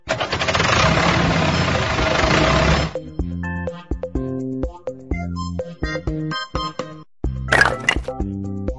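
Tractor engine starting in a kids' vehicle puzzle app: a loud, rough cranking and rumble for about three seconds, then bouncy cartoon music with a brief noisy burst near the end.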